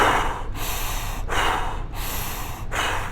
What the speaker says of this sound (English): that nasal breathing to mouth breathing